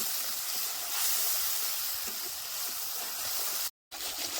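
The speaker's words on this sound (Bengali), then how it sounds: "বেশ ভালো করে সময় নিয়ে আস্তে আস্তে জাল দিয়ে এবার মশলাটা সুন্দর করে কষায় নেব" Spice paste with ginger for a cauliflower kalia frying slowly over low heat in a pan, making a faint, even hiss and gentle sizzle that runs steadily with no voices, broken by one brief gap near the end.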